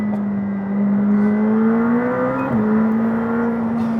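McLaren 765LT twin-turbo V8 accelerates with a loud, steady droning engine note that climbs in pitch, dips briefly as it shifts, then pulls on, heard close with no talk.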